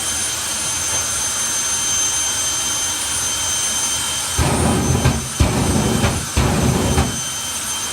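A jet dragster engine roars at the FIA European Finals drag racing event, a loud sustained whoosh that swells into several heavier pulsing blasts partway through.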